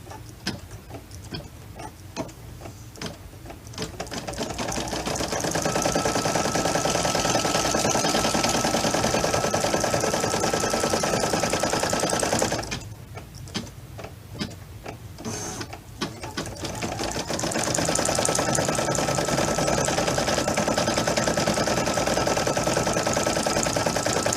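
A sewing machine stitches fabric doll ears in long, loud, continuous runs of rapid mechanical chatter, up close, with a brief pause in the middle before the motor picks up again.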